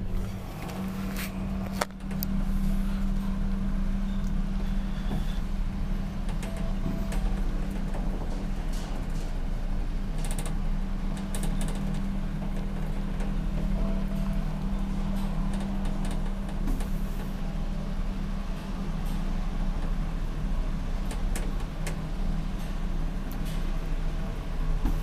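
A 1973 ValmetSchlieren traction elevator runs in a Finnish apartment building, giving a steady, close mechanical hum with a low drone and faint ticks and rattles throughout the ride.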